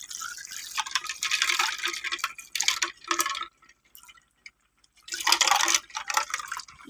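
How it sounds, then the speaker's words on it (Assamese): Cold water poured over ice cubes in a bowl while boiled spinach is prepared in an Indian home kitchen, heard as splashing, trickling bursts separated by a short quiet gap. "বৰফৰ মই ওপৰত ঠাণ্ডা ঠাণ্ডা পানী দি দিম"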